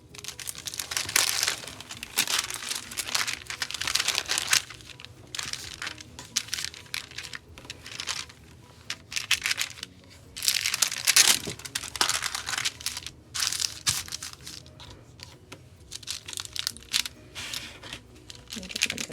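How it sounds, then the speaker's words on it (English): Quilting fabric rustles and crinkles as it is folded and handled on a sewing table, close and steady with bursts of crisp rustling throughout. "Now we're going to go and fold the fabric where this is."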